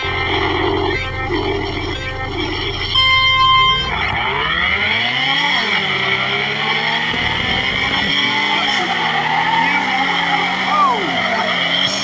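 A powerful tuned car drifting on Drift Park Route C in a racing video game, with a loud engine whine that rises and falls and long sustained tire screeches from start to end.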